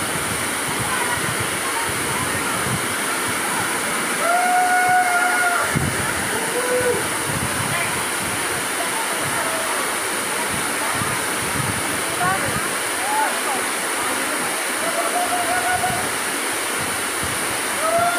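Steady, dense rush of Pinsal Falls, a waterfall in Nueva Ecija, fills the whole stretch with a constant near roar, while short whistling bird-like calls rise above it now and then.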